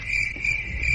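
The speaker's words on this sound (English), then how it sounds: "Straight crickets" A cricket chirping sound effect: a steady high trill of rapid pulses, close and clear for about a second over a faint low rumble.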